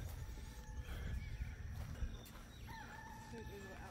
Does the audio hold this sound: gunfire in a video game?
no